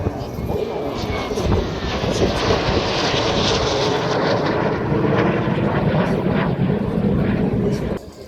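A Lim-2 jet with a licence-built engine roars steadily and loudly at the Poznań Krzesiny air show, a continuous powerful rumble running the whole time while a voice speaks over it.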